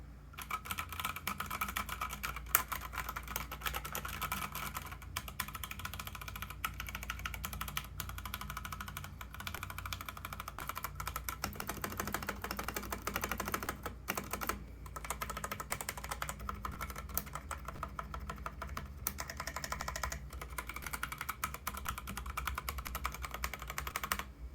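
Continuous rapid typing on a Keychron K8 TKL mechanical keyboard, a dense stream of clacky keystrokes running steadily for the whole stretch with no talking.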